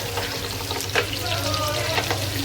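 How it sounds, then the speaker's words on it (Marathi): Small shrimp (kolbi) pakoda frying in hot oil in a pan, a close, busy bubbling sizzle with crackles and a few sharper spatters and stirring clicks, continuous throughout. "आता इथं कोलबीचा पकोडा बनवते मी बघा कोलब्या टाकल्यात"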